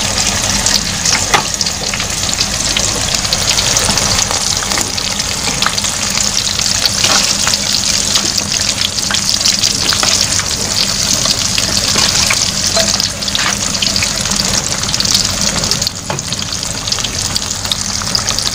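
Snacks crackle and sizzle in hot oil, a dense, steady, loud frying hiss that runs continuously without voices.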